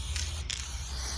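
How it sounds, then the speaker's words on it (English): A spray paint can hisses in short bursts as it is swept across a surface, fairly faint and close, with no voices. "Doing a nice solid spray, but ensuring that the can is always moving so that you're not making it pool in any area."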